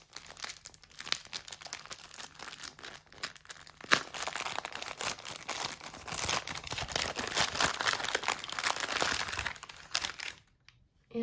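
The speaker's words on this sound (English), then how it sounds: "Sorry for the crinkling." Packaging crinkles and tears as a Skein and the Stitch yarn package is opened, a steady, close crackling that builds in density through the middle and stops abruptly near the end, with no talking.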